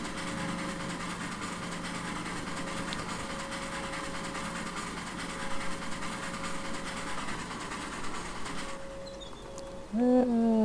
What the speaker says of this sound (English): Generator sound for powering the lighting and whatnot, I imagine.